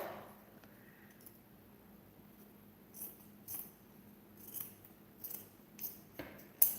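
Scissors snip off excess fabric from a secondhand dress, a series of about seven crisp close cuts that grow a little more frequent toward the end over a quiet background.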